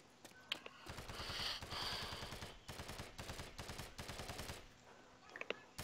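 Automatic AK-74 rifle fire in the Call of Duty Nazi Zombies game on the Rich map, sustained rapid bursts with short pauses, loud and close, no talking.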